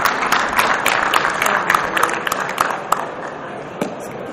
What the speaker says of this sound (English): Give Ms. Miller one more round of applause here.